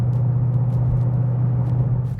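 A 2015-2017 Mustang GT fitted with an MBRP 3-inch aluminized Street Series cat-back exhaust idles with a steady, deep, close rumble that holds evenly throughout, with faint ticks above it.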